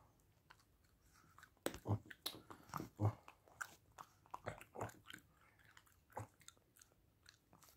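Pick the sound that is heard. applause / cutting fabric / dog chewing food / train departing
dog chewing food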